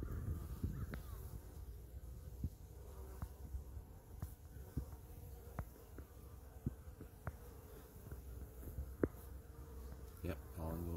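Honeybees buzzing around a hive, a dense steady low drone of many wings close by, with faint clicks and knocks over the continuous hum.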